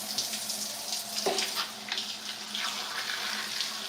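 Running water from a faucet pouring steadily while hair is rinsed, a continuous close hissing splash with slight shifts as the flow hits the hair.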